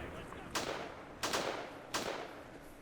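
Three sharp gunshots spaced about a second apart ring out over a quiet backdrop in a Second Korean War video game, each with a short echoing tail, fairly distant and moderate in volume.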